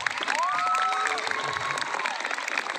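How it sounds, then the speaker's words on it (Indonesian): An audience at a religious talk applauds, a steady crowd clapping with some light cheering. A voice with a rising, sung-out tone carries over the clapping through the first half. "Tepuk tangan dong"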